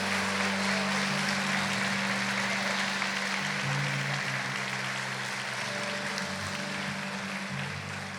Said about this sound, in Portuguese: Mais uma vez você pode aplaudir a Jesus